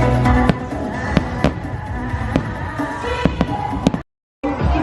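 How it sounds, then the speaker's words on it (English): A fireworks show, with sharp bangs and crackling bursts repeating at irregular intervals over a dense, continuous background of crackle. It stops abruptly near the end, then resumes. "That was such an awesome addition to the fireworks."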